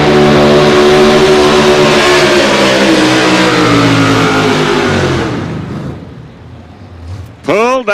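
A pro stock 4x4 pulling truck at a state fair outlaw pull roars loud and steady at high revs, then bogs down and fades as the motor is pulled down, followed by a brief burst of voice at the end.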